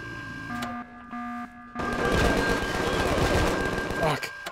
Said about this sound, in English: I heard something shooting.